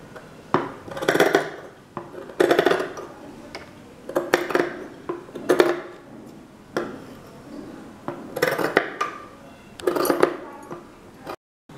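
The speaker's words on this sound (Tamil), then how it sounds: "ரெண்டு பீஸ் கட் பண்ணியாச்சு" Scissors cut through two pieces of fabric for a double-layer face mask, a series of crisp snipping bursts repeating about every second or two, close and fairly loud with brief pauses between strokes.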